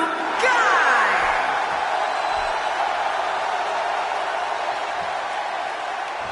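In the WWE 2K17 video game, an arena crowd sends up a steady, loud roar of cheering and whooping that stays fairly even throughout, with no voices clearly speaking.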